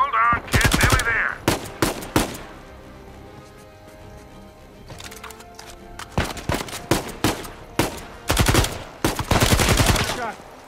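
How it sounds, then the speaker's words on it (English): Gunfire in the Uncharted 4 action game: repeated loud bursts of rapid shots arrive in clusters separated by quieter stretches of background game sound. "Good shot, Nathan."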